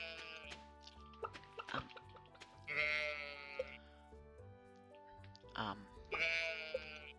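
Cartoonish farm animal calls from the video game Stardew Valley, several short bleating cow cries repeating in bursts over soft game sounds, clear and close.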